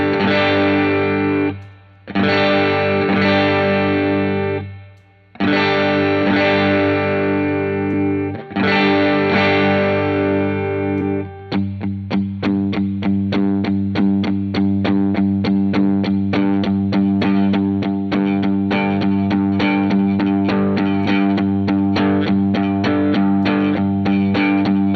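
Electric guitar driven by a Fulldrive 2 overdrive into a Roland RE-201 Space Echo, several loud sustained chords with short breaks, then a dense stretch of rapid picked notes with echo repeats piling up.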